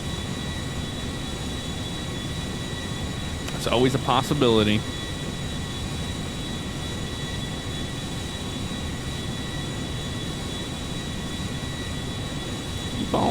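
Jet engines of a Boeing 777 mod airliner climbing in the GTA 5 video game, a steady broad roar that holds throughout while someone talks briefly.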